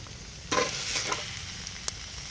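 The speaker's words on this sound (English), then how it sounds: "Oh, you hear that sizzle?" A hot tin can of char cloth sizzles in snow, a burst of hissing crackle starting abruptly then fading into faint, intermittent pops over a quiet background.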